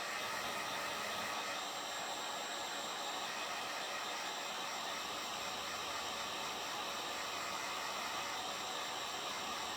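A hair dryer blows steadily on a handmade Dollar Tree leprechaun craft, a continuous broadband airy roar held close and even for the whole stretch, with no talking.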